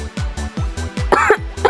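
A woman coughs repeatedly in a steady series of harsh, close bursts, several coughs in under two seconds, with rough throaty breaths between them and no talk.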